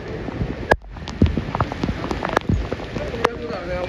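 Steady rain falls on hard surfaces with a dense patter of close drops and sharp splashes throughout. Faint voices sound beneath it.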